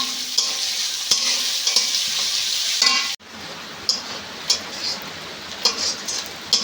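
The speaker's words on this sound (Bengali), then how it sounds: "একটু ভালো করে লাল লাল করে ভেজে নেব" Chopped onion and green chillies fry in a pan with a steady loud sizzle, interrupted by clicks and taps of stirring, then the sizzle drops to a quieter crackle with occasional scraping knocks.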